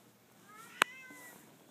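A mother cat nursing a litter of five kittens, nearly five weeks old, gives a single short meow, close and clear, with a brief sharp click in the middle of it.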